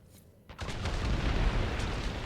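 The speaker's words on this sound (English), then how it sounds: "No, it's an explosion." A bridge explodes in the Dragon Age Inquisition video game: a sudden loud blast breaks out after a brief quiet lead-in, then rolls into a sustained, dense rumble of debris and destruction.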